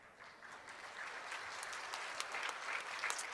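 A church congregation at a joint district revival meeting claps together, a steady, moderately distant round of applause with no voices over it.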